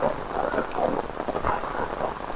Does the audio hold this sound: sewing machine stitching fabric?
no